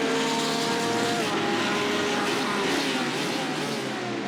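Steady, high-pitched roar of a Porsche race car engine at the Catalunya circuit in a racing video game, continuous and close with slight pitch shifts as it holds speed.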